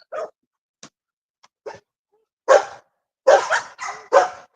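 Bulldogs barking in a yard, a handful of sharp, close barks and yips in uneven bursts separated by short silences, growing louder and more clustered toward the end.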